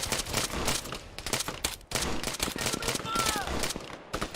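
Rapid bursts of automatic gunfire in Arma 3, loud close cracks in clustered volleys with short pauses between them, with faint voices in the background.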